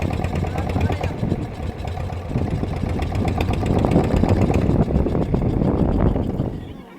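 A motorboat carrying relief supplies through 2024 flood waters in Bengal drones steadily at a moderate distance, its motor running continuously beneath a person talking.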